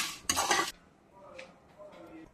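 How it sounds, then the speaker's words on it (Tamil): Black peppercorns and coriander seeds dry roasting in a pan give a brief loud scrape and rattle of stirring near the start, then quieter light clinks and faint crackling. "மிளகு போட்டு வறுத்துக்கோங்க."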